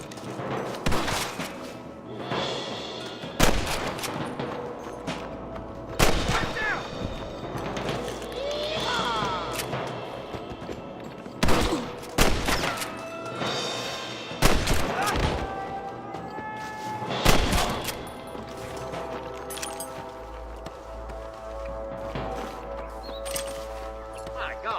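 Gunfire in a Red Dead Redemption shootout in Pike's Basin: repeated sharp shots and thuds scattered through the fight, loud and close, over game music, horse hooves and shouting voices.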